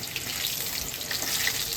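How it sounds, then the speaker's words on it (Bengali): Potatoes frying in a pan for a tangra fish curry, a steady dense sizzle with crackling oil spatters throughout, close and continuous with no talking. "আলুটা দেখো কত সুন্দর লাল হয়ে গেছে ভাজা"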